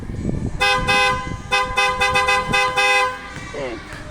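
A loud, close, newly installed car horn blasts in a series of bursts, one long and several rapid short toots, with people talking underneath and between them.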